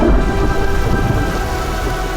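Heavy tropical rain pours steadily over the Indonesian islands, a dense hiss of drops on surfaces with low rumbling thunder beneath, loud and continuous without voices.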